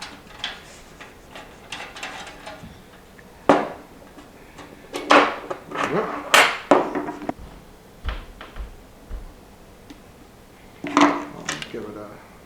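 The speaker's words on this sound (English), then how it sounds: "We're going to go ahead and undo these thumb screws." Thumb screws are unscrewed on a PC case during a build with a Ryzen 5 2600 and GTX 1070, giving scattered metallic clicks and scrapes, a few louder taps and handling bursts, close up with no talk.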